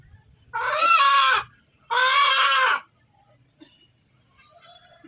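A black desi chicken lets out two long, loud, harsh squawks close by before slaughter, separated by a short pause, followed by quiet faint rustling.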